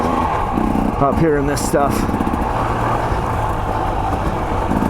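A 2024 KTM 300 XC-W dirt bike runs steadily on wet, rocky single track, its engine droning close and continuous beneath a rider talking over it.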